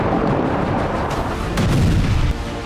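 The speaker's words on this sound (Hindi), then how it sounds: "आईडीएफ वहां भी बमबारी कर रहा है" Bombing explosions in Rafah roll as a dense, continuous low rumble with a heavier boom partway through, distant and unbroken throughout.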